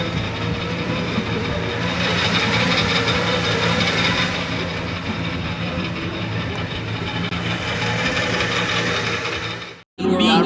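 A 1966 Chevy Impala lowrider with a pearl white top and candy brandywine paint, cruising through Salt Lake City, gives a steady, loud rumbling drone with road noise. It runs unbroken until a short dropout near the end.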